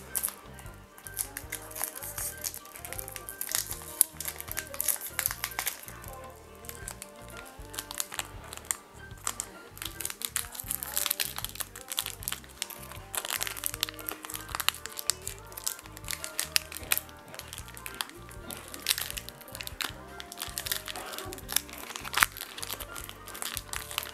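Tekken trading card booster packs being opened by hand, a run of close, soft foil crinkling and tearing rustles in irregular bursts over a quiet room, without speech.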